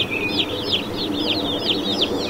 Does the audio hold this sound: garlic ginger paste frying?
no